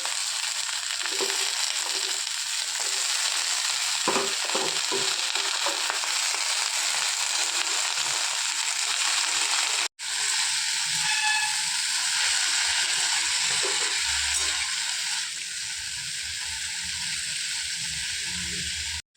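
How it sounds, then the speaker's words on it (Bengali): Malabar spinach leaves hit a pan of onions already fried in hot oil for a Bengali dish with hilsa fish head. A loud crackling sizzle and hiss follows, then dies back to a steady frying hiss, with a brief dropout midway. "পেঁয়াজটা আমার এখানে ভাজা কমপ্লিট। এবার পুঁই শাকগুলো দিয়ে দেবো।"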